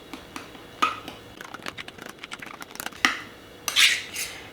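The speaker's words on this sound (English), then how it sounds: "I usually just take a butter knife to mix it up." A butter knife stirs overnight oats in a container, producing irregular close clicks and taps against the sides with soft scraping between them, a few sharper knocks standing out.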